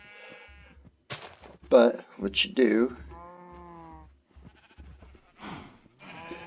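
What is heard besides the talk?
cows in a video game (Minecraft)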